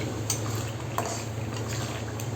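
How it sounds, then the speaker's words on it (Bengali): Spices frying in oil in a pot while being stirred, a steady low sizzle under a few light metallic clinks and scrapes of a spoon against the pot, close and even. "আমি এখন মশলাটা তেলে ভালো করে সুন্দর করে ভুনে নেব"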